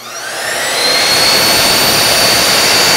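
A power saw cuts a wooden ramp board to length, its loud, steady whine rising over the first second and then holding.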